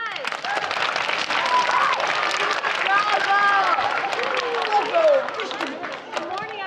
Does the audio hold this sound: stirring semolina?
no